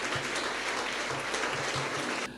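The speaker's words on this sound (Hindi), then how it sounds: "एक जोरदार ताली प्रभु यीशु के लिए।" Loud, dense applause from a church congregation in Mumbai fills the space steadily for about two seconds, then cuts off abruptly near the end.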